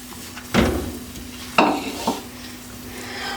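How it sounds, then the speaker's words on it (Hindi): Besan halwa batter made with gram flour, milk, egg and sugar roasting in a pan, a quiet background sizzle cut by three distinct scraping strokes of the spoon as it is stirred, with no talking. "और आपने अब इतना भूनना है कि ये सारा दूध, अंडा और चीनी जो है अच्छी तरह मिक्स हो जाए।"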